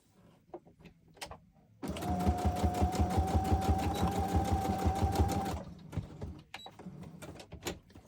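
A sewing machine runs one continuous stitching burst of about four seconds through a very thick piece of fabric for a junk journal, loud and steady, with quiet handling taps before and after.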